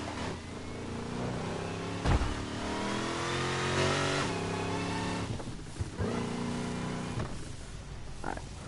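A video game car's engine revs and accelerates while driving, a steady mid-pitched drone rising and falling in pitch, with a few brief bumps and clunks along the way.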